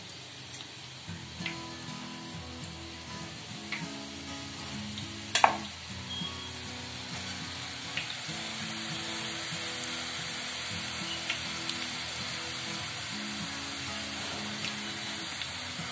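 Pieces of sweet jackfruit-flavoured dough bubble in hot oil, a steady close sizzle with faint crackles and one sharp clink midway, continuing evenly without any voices.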